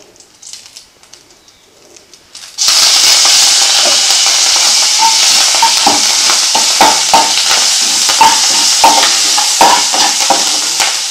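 Mustard seeds and torn curry leaves hit hot oil for a tempering, bursting into loud, steady sizzling with scattered pops and crackles after a quiet start, no talking.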